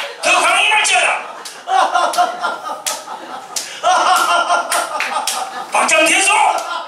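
Hand clapping during a Korean church spiritual training session, sharp irregular bursts of slaps and claps from a group, mixed with laughter and excited voices, coming in loud clustered waves.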